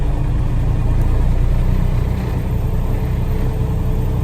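A diesel engine climbing in RPM during a forced DPF parked regeneration: a steady, loud, droning rumble that holds near and even throughout with no talk over it.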